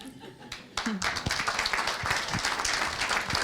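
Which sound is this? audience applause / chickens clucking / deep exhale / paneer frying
audience applause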